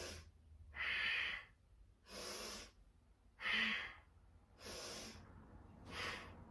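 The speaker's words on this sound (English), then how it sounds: "exhale, twist right with powerful breathing that sounds like this" Five forceful, rhythmic yogic breaths, sharp nasal exhales and inhales, are taken while twisting side to side, close and loud with brief quiet gaps between each breath.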